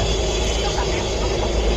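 Inside a stopped or slow-moving passenger train bound toward Sealdah, a continuous loud rumbling carriage drone fills the space, with a murmur of voices beneath.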